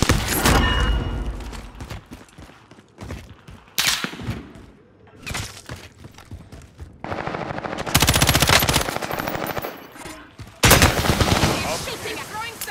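Gunfire in Call of Duty Warzone, with bursts of automatic fire and single shots that come in loud, uneven volleys with short gaps between them.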